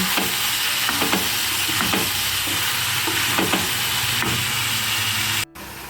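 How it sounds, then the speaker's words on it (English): Tomatoes sizzling in hot oil in a pot for beef stew, with a steady frying hiss and repeated scraping stirs of the spoon at close range, cut off abruptly near the end. "You can add your tomatoes and give it a good stir."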